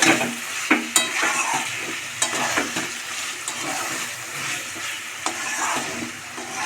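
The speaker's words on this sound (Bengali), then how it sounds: "সবজিটাকে আমি মশলার সঙ্গে ভালো করে কষাতে থাকবো" Mixed vegetables stir-fried with spices in a home-style pan, giving a steady close sizzle with repeated scraping stir strokes and occasional sharp clinks of the spatula against the pan.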